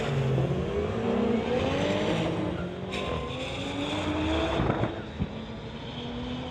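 Drag racing cars, a 1991 VW Golf and a 1992 Honda, launch down a street-legal drag strip. One engine revs up hard and climbs, then a rough, abrupt gear shift breaks the pull before it keeps accelerating, loud and close.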